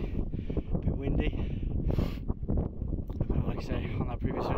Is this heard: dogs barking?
no